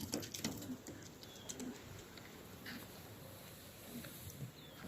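Racing pigeons at a loft cooing softly, faint low coos repeating now and then over quiet background noise.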